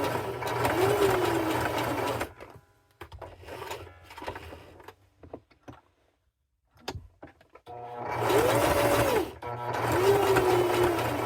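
Sewing machine zigzag-stitching a heart-shaped appliqué, a loud close motor hum in two long runs, separated by a quieter stretch of handling and fabric rustle.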